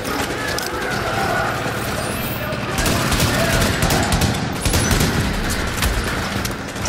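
Sustained machine gun fire rattles through a Times Square side mission in The Division, with dense, continuous volleys that swell louder midway, layered with other gameplay sounds while someone talks over it.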